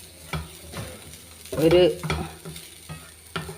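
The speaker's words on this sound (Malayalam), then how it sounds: "2-3 സ്പൂണ് വറുത്തെടുക്കുകയാണ്." Crushed coconut frying with curry leaves for koottukari, close crackling sizzle with a few scraping stir strokes, the loudest burst midway; a voice says a single word.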